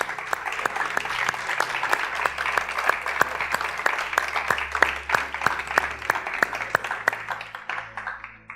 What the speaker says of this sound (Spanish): Yo le doy un aplauso al Señor por esa declaración.